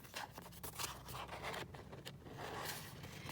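Scissors snipping through patterned scrapbook paper, cutting out a piece for an accordion junk journal: a close, continuous run of scratchy cuts and rustling paper at a fairly even pace, with no talking.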